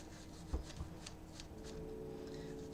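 Keys of an Amstrad CPC 464 keyboard are scrubbed by hand, a run of quiet rubbing and brushing strokes with a couple of soft knocks, close and faint.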